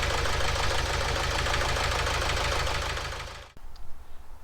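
A Renault Trafic diesel engine idles roughly, a loud, steady, uneven clatter with a faint knock running for about three and a half seconds before cutting off sharply into quiet background noise.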